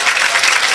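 An audience bursts into brief, loud, even clapping at a comedy performance, a dense wash of hands with no pause.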